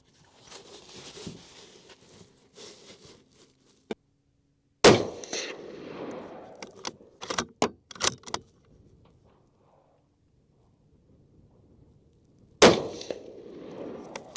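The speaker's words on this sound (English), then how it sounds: "All right, 5 rounds, and then we will shoot suppressed." Five unsuppressed gunshots are fired at a public shooting range as sharp, loud cracks spaced irregularly over several seconds, with quiet handling clatter and ambient range noise in between.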